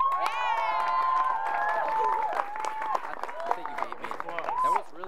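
A studio sports show crowd cheers and applauds for Collin, with loud overlapping high-pitched shouts and whoops over steady clapping that gradually thins out.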